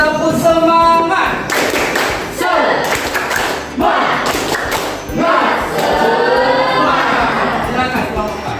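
A high school class claps in rhythm and cheers to encourage group 4 before their presentation, with loud, patterned group clapping mixed with shouting voices throughout.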